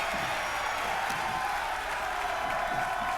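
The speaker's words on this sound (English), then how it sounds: "Right now the crowd is going insane." A large crowd at an underground pro-wrestling event roars continuously, a loud, unbroken wash of cheering and noise with no distinct voices.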